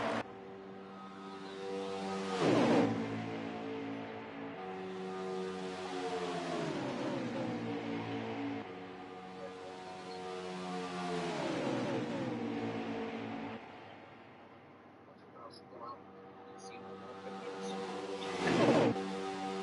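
Stock cars racing at Talladega in a racing game, engines droning steadily in a harmonic roar with pitch sweeping up and down as the pack runs, plus two louder surges as cars pass close by.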